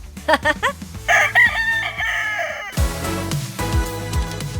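A Philippine breed rooster crows several times nearby, loud and drawn out, with other fowl calling and clucking around it, on a farm in Kintamani, Bali.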